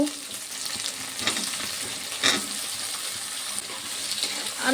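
Prawns, onion and potatoes sizzle in a frying pan for a banana-stem curry, a steady crackling hiss broken by a few louder scraping stirs, with no talking.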